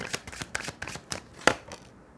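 Tarot cards shuffled and drawn, giving a quick series of close riffling flicks and one sharper snap near the end.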